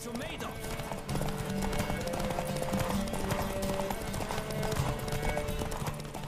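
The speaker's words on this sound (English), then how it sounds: "My horse's stamina is just disappearing." Horse galloping in The Witcher 3 on PS4, a steady rapid clip-clop of hooves running continuously under game music, loud and close throughout.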